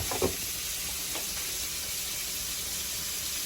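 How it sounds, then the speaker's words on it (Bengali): Fish fry in hot oil with a soft, steady sizzling hiss, and a couple of brief clinks come near the start; the sound is quiet and there is no talk. "তেলটা গরম হয়েছে এবার মাছগুলো দেবো এক এক করে"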